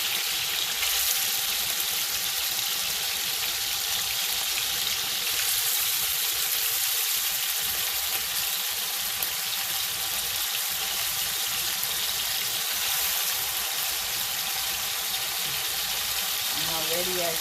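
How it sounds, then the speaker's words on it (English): Jamaican-style oxtail fries in a pot with a steady, loud sizzle, a continuous hiss with no break. "sizzle"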